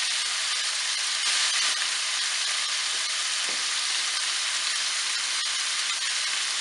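Floured roe deer pieces frying in a pan for saffron venison, a bright steady sizzle and hiss close up, even throughout with a brief softer spot midway.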